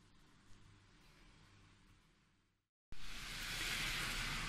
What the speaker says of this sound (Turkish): Öyle bir yağmur yağıyor ki.